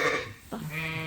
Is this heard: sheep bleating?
yes